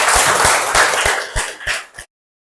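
Pupils in an elementary school classroom give a short round of applause, a dense burst of clapping with a few regular strong beats that fades and stops abruptly after about two seconds.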